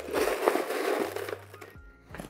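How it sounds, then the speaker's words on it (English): Crushed ice is added to a glass of mocktail, producing a close, crunchy pour and scrape of packed ice that tapers off, followed by a short final crunch. "I'm gonna fill the rest with crushed ice."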